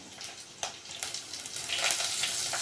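Curry leaves with crushed kanthari and white chillies sizzle and crackle in hot oil for a fish curry, a steady close frying hiss with sharp pops that builds louder toward the end.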